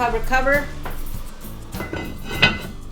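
A lid goes onto a pan of vegetables for lumpia with metallic clanks and a sharp clatter near the end, while a voice speaks briefly at the start.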